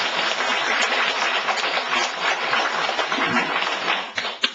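An audience claps together at a monastery's 23rd-anniversary ceremony, a dense, even wash of applause that holds steady for several seconds before thinning out at the end.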